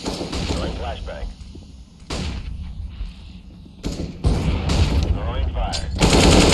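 Decoy grenade in the video game CSGO faking gunfire, with bursts of sharp shots and rattling fire mixed with other game sounds, loud and close, alongside talk.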